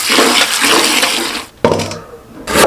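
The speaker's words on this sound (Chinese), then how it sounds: "淘洗一遍，洗洗里边血水，" Cut pieces of rabbit meat get washed by hand in water, a loud close sloshing and splashing that breaks briefly and then resumes.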